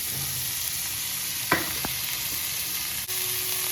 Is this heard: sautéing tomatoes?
yes